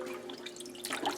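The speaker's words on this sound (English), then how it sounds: "Larry's pouring some of the peanuts in the sink to wash them." Water splashing and dripping in a kitchen sink as peanuts are rinsed, light trickles and small patters building toward a louder splash at the end, fairly close and without talk.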